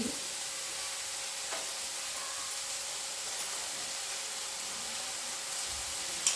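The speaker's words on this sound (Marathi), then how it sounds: "आता आपण म्हणजे जो भात आपण उकळला होता टाकून घेऊ" Boiled rice tipped into a frying pan and stirred, giving a steady low sizzle and faint scraping throughout, with a brief clatter near the end; no talk.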